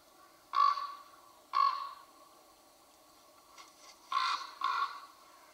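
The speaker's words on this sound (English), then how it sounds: "Are there any scenes that come into your mind when you hear the sound of a raven?" A raven calls in four harsh, croaking caws, sounding as two well-spaced pairs that are moderately close and clear against a quiet background, with no talking.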